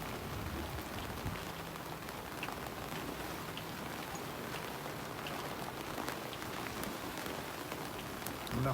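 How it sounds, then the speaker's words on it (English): Rain falling on a sailing boat under way in bad weather, a steady, soft hiss of drops pattering on the deck, even and continuous with no voices. "As you can hear the rain in the background,"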